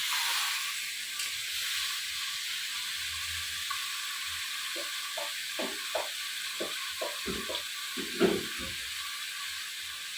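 Meat dropping into a hot pan of partly fried potatoes, cooked for a festival meal, sets off a steady sizzling hiss with sputtering pops and bursts that thicken toward the end, close and loud with no talking.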